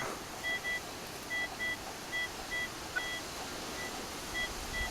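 A metal detector reacting to iron nearby gives short, high, steady electronic beeps, mostly in pairs at a regular pace over a quiet background hiss.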